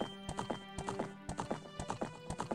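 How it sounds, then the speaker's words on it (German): Horses gallop in The Legend of Zelda: Ocarina of Time on Hyrule Field, with a steady, quick clip-clop of hooves, fairly close and clear, and a faint neigh mixed in. "Und hier reiten noch andere Pferde rum."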